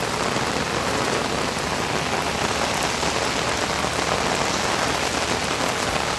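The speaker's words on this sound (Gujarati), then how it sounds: "હવે વરસાદ ચાલુ થઈ ગયો છે, ભારે વરસાદ આવે છે" Heavy rain pours steadily onto a kachcha village house in Rangpur, a dense, continuous hiss of drops drumming on the roof and ground, loud and unbroken throughout with no voices.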